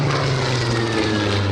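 Supermarine Spitfire piston engine droning steadily at a 1966 Farnborough airshow in England, a loud continuous propeller roar with a low hum and no speech.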